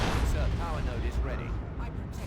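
Manticore artillery strike in the Dawn of War 2: Retribution video game, heavy rumbling impacts under a commentator's voice.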